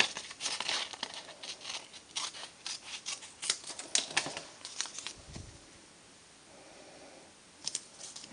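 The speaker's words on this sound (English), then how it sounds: "I stamped the trees again onto a post-it note, so I'm now going to cut that out." Scissors snip through a stamped post-it note to cut out a tree-shaped mask for card stamping, giving close, quick crisp cuts and paper rustles with a short quiet pause before a final few snips.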